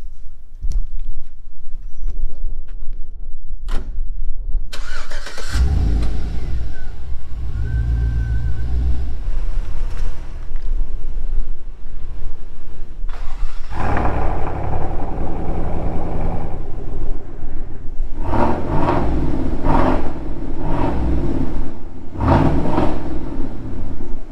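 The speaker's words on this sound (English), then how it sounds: "Let's go ahead and start moving some vehicles around" Engines of vehicles start and run in a yard as they are moved around, a close rumbling idle with revving surges, one engine dropping off and others starting up later.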